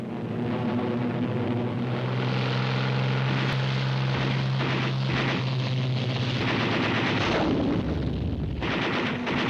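Military aircraft launching from carriers against a Japanese-held island in the Pacific war give a loud, continuous engine roar with a low droning hum and rough bursts throughout, with no talking.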